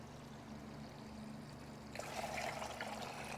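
Water draining from a seized Kawasaki GPZ motorcycle engine into a bucket, a faint steady trickle that swells into a louder splashing pour partway through, with no talking.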